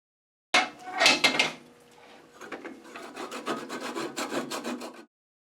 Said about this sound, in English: I'm going to take a little Swedish saw or a Japanese saw to cut the remainder off.